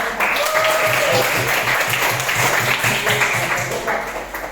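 A classroom of students breaks into lively, fairly loud applause in a rhythmic, pulsing clap pattern. Voices and a faint tone sound beneath the clapping, which fades slightly at the end.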